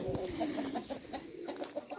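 A rooster clucks in a steady series of short, soft notes, close by, over continuous farmyard background noise.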